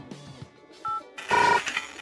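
A phone number is keyed in on a telephone keypad, a short run of clean DTMF beeps, three or four distinct tones, fairly close and alone without talk.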